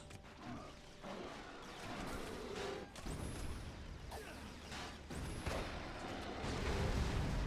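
Backlash grenade blasts in the shooter Resistance: Fall of Man, heavy booming crashes and rumbling debris that run continuously, with sharp whistling pings at two moments amid dense battle noise.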